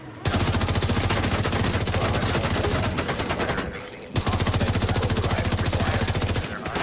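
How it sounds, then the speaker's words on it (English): Sustained automatic gunfire in the video game The Division, two long rapid bursts of close, loud shots separated by a short break. "throwing bullets downrange."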